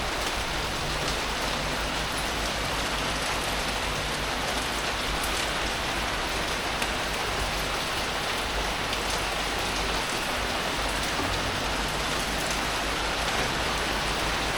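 Steady, heavy rain pouring down in Georgetown, a dense continuous hiss of drops on surfaces with no letup and no voices.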